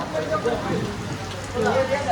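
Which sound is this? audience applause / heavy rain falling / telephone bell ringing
heavy rain falling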